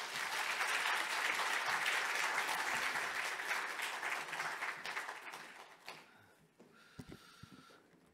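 Church congregation applauding at an early-morning service, a dense, loud wave of clapping for about six seconds that thins into scattered claps and fades toward the end.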